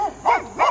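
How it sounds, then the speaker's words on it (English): A dog barks twice close by, two sharp, separate woofs about a third of a second apart, with no talk over them. "The dog just scared me."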